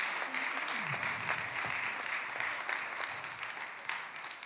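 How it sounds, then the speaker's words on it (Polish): Conference audience at a Renew Europe climate event in Poland applauds steadily, a dense sustained patter of many hands clapping with no speech over it. "Ogromne brawa."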